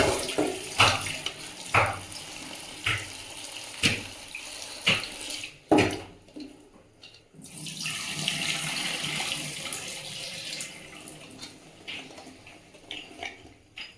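Tap water runs and splashes into a sink as jujubes (kul) for pickle are washed, with clattering handling knocks early on, then a sustained, fairly close flow; no one speaks.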